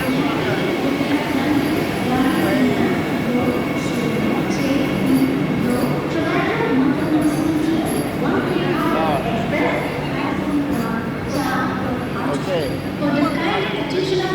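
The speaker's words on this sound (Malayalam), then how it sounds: "ഞങ്ങൾ ട്രെയിൻ എത്തിക്കഴിഞ്ഞു" A train rumbles steadily through a busy station with continuous loud mechanical noise, while people talk nearby over the din.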